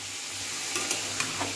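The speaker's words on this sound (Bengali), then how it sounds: "আর এদিকে চিকেন কষা হচ্ছে।" Chicken frying in a pan while being stirred, a loud, steady sizzle with a few sharp scraping clicks of the spoon, close and alone.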